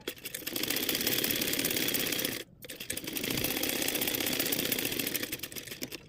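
A sewing machine stitches the neckline of a blouse at home, running in a steady fast whir for about two seconds, pausing briefly, then resuming a long continuous run, close and loud with no talking.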